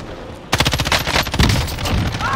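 Rapid bursts of gunfire in a Call of Duty match, loud and close, a sharp volley of repeated shots starting abruptly and continuing in dense, stuttering clusters with no talking.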